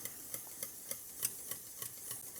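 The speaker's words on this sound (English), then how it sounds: "Melt it in nicely with a whisk" Whisk stirring cheese into a Mornay sauce in a pan, faint rhythmic scraping ticks at a steady pace, quiet and close with no talking.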